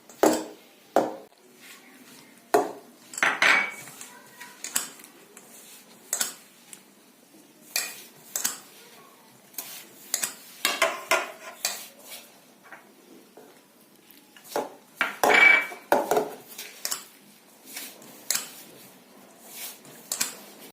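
Gram flour is worked with ghee and milk in a metal vessel, a series of irregular scraping clanks and knocks of a spoon against the pot, close and intermittent, with short pauses between bursts.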